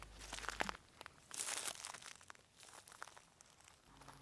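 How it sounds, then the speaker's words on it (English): Footsteps crunching through dead, burnt leaves on blackened ground under gum trees, a steady run of soft crackling crunches, quiet and close, with no voices. "except for the crunch of dead burnt leaves underfoot"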